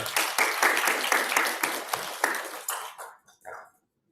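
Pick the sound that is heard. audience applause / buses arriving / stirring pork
audience applause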